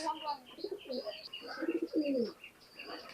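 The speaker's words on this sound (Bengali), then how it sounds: "আমি নীলদুম্বা কবুতর দেখাচ্ছি" A red-eyed Nildumba pigeon, a Pakistani high-flying breed, coos softly up close in a few rolling phrases, mixed with light chirps and quiet background sounds.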